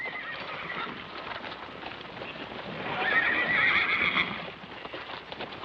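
Horses clip-clop amid faint background noise, and one horse lets out a clear, drawn-out whinny midway through.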